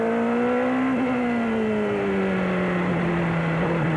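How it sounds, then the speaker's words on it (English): Onboard engine drone of an Indy race car at the 1993 Portland race, wet track, a steady loud tone easing gently downward under smooth, delicate throttle with a brief blip midway, with no talk over it. "Just listen to how easy Mansell treats this car"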